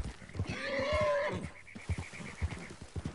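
A horse in Red Dead Online gives a loud, close whinny lasting about a second, rising and then falling, with hoofbeats clopping before and after it.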